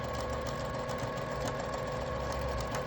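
Sewing machine stitching a half-inch seam on fabric pieces, a steady fast mechanical whir with rapid even needle rhythm, close and loud, running alone without talk.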